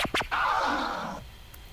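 Emulated DJ turntable scratch made with ScratchDNA in VirtualDJ software, a quick burst of back-and-forth record scratches followed by one longer smeared sweep that fades, fairly quiet with no voices.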